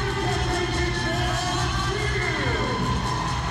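A large crowd at a Lingerie Football League game in Los Angeles, Seattle Mist versus LA Temptation, roars and cheers steadily, a dense continuous wash of voices with occasional whoops and yells throughout.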